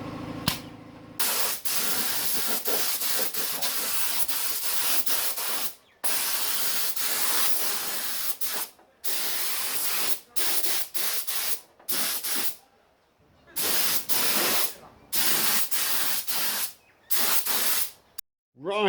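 An aerosol can sprays satin black primer into the engine bay of a ZK Ford Fairlane, making loud, close hissing bursts of varying length broken by short pauses.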